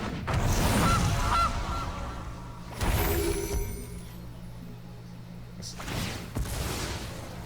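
A Gilded Goose card in the MTG Arena digital card game gives cartoonish goose honks, a loud burst at the start and another midway, with swishy effects and low game music underneath.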